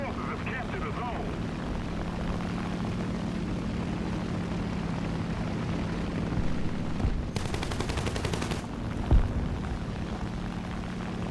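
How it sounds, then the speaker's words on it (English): Machine gun fire in War Thunder crackles in a rapid burst of shots under a constant droning aircraft engine, with a single sharper bang soon after. "can hear like a machine gun round going off like crazy"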